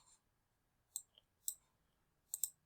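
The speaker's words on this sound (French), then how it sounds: "je clique sur le requin, ensuite OK" Four crisp computer mouse clicks, isolated and quiet, coming singly and in a quick double with short gaps of silence between them.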